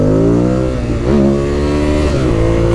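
A 2016 Ducati Monster 821 motorcycle pulls hard and loud up close, its engine note climbing through revs, dipping at a shift and rising again, with no talk.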